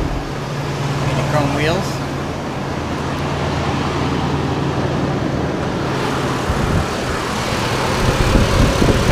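A 2010 Chevy Colorado's 3.7 liter engine idling steadily, a constant low hum throughout as someone talks over it.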